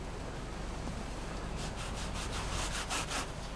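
Paint sponged onto a sailboat cockpit, soft close rubbing over a hiss, then a quick series of rhythmic dabbing swishes toward the end.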